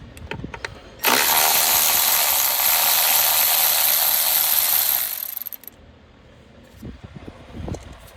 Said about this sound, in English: take a 8mm socket and our electric ratchet